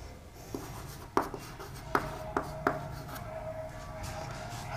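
Chalk or marker writing on a board during a maths lesson, with several short separate strokes and taps over a quiet room hum and no speech.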